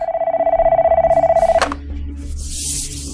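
Telephone ringing for an incoming emergency call, a rapid electronic trill pulsing steadily for about a second and a half before it cuts off, leaving faint background hiss and room noise.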